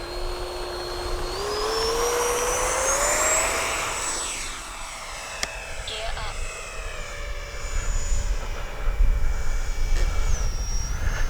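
A Freewing A-6 Intruder 80mm RC jet on its maiden flight takes off into the wind, its ducted-fan whine rising steadily in pitch and loudness, with a voice talking over it.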